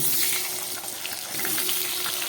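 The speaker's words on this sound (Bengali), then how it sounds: "এবার এর মধ্যে আমি কেটে রাখা আলুগুলোকে ভেজে নেব।" Cut potato pieces fry in a pan with a dense, steady crackling sizzle, close and fairly loud, swelling slightly toward the end, with no talking.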